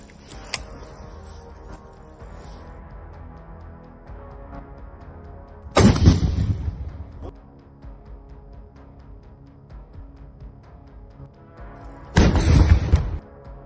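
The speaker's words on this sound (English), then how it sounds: "As one Ukrainian soldier fires a handheld rocket toward a Russian vehicle." Two heavy, close booms from a handheld rocket fired by Ukrainian troops at a Russian armored vehicle in a forest, the first near six seconds and the second near twelve, each decaying over about a second above a low outdoor rumble.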